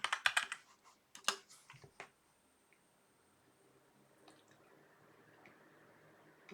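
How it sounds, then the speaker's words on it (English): A few quick bursts of keyboard typing, close and crisp, then a pause of near silence with faint clicks. "Apologies for my typing today."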